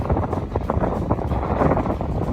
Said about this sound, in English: It's very windy and really cold.